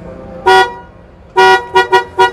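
A vehicle horn, newly rewired to a relocated button, honks loudly and close by: one short blast, a pause, then a longer blast followed by three quick toots in succession, with no talking.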